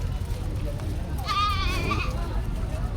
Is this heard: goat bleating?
yes